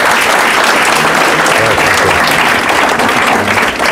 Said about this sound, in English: please join us in giving a round of applause for our speakers